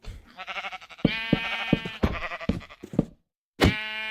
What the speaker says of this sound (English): And now you have a whole bunch of sheep.